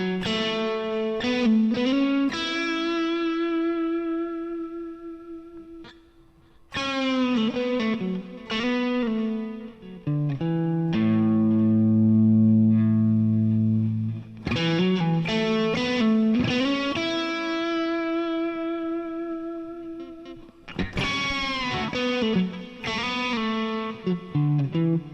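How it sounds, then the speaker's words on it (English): A Kramer SM-1 electric guitar rings out through effects with distortion, chorus and reverb, in bursts of fast picked runs and sustained chords with brief pauses between phrases. "I love the sound of this guitar."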